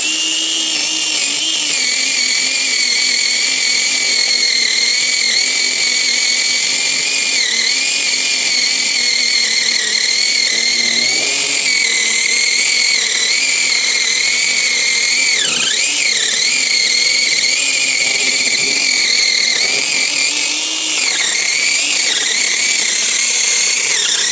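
A high-pitched whine of a cordless power saw runs steadily and loudly, its pitch dipping briefly now and then as it bites.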